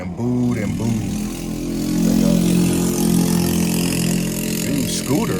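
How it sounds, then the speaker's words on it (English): A loud scooter needing a tune-up passes down the street with a steady droning engine that swells in the middle and fades slightly, heard under people talking. "There you go with some scooter that needs some sort of tune up."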